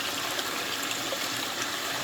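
Running water flowing through a basement gold panning setup, a steady, moderately loud trickling rush with no voices.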